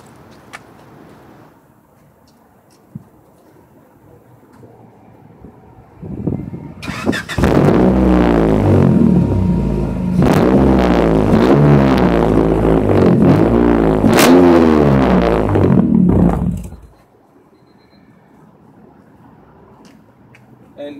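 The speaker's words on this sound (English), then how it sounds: "And that's how the exhaust sounds." Exhaust of an old Errol highway truck running, a loud steady engine rumble with pulsing low tones that rises abruptly, holds for about ten seconds, then cuts back to a quiet idle.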